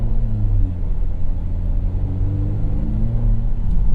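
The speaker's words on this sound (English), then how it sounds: "There we've got a little bit of telltale 4-cylinder thrumming that is going on" A 2018 Volvo XC90 T6 AWD Inscription's four-cylinder engine idles with a steady, low, close thrum that runs unbroken throughout.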